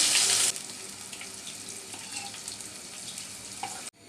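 Cut okra with a pinch of turmeric tossed into a hot pan for a mixed vegetable fry, a loud hissing burst at first that settles into a steady, even sizzle, then cuts off abruptly at the end.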